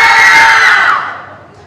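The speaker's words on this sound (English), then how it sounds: "at a rock concert, the audience is expected to scream and yell and cheer like this" A school audience at a choir concert screams, yells and cheers like a rock concert crowd, a loud bright burst of shouting that holds steady and then fades away quickly toward silence.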